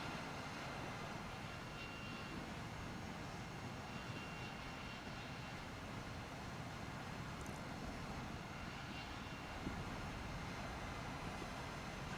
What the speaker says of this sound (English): Where's that plane that just flew over me, Scruffy?